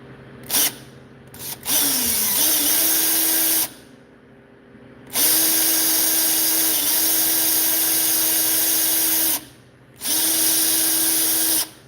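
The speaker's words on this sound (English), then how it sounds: "I'm only drilling this little hole here to the middle where it hits that gap" Power drill boring a small hole partway into a robot build part, running in several steady whining bursts of a few seconds each, separated by short pauses, close and loud.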